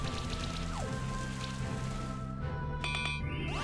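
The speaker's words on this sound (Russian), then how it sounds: "Кислотный дождик." Steady patter of rain fills the clip, with tonal electronic chimes and a sweeping synthetic tone layered over it near the end. An acid rain spell effect in the video game Monster Sanctuary.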